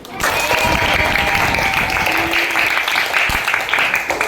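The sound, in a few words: classroom applause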